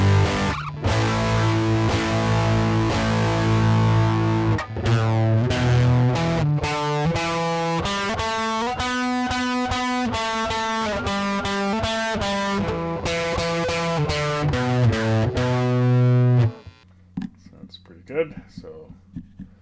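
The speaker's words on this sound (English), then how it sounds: "So that's only a tiny bit of distortion, so let's turn that up halfway here," An electric guitar played through a rare Canadian distortion pedal set about halfway produces a run of crunchy, sustained distorted notes and chords. The notes come in a steady rhythm, loud and close, then cut off into a quiet, fading tail.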